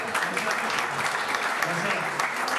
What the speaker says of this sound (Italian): Accogliamolo con un grande, grandissimo applauso, Christian Cintura